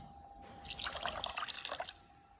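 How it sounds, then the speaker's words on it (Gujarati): About a cup of water is poured onto sugar in a pan to make syrup for gulab jamun, giving a short, soft splashing pour of roughly a second over a quiet background. "એને સામે આપણે એક કપ પાણી નાખીશું"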